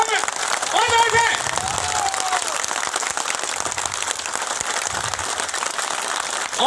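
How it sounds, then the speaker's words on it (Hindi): A crowd at a Congress party executive meeting claps loudly and continuously for the whole stretch, with a dense, steady wash of applause and a voice rising briefly above it near the start. "तो एक बार जोरदार ताली इसको में और है।"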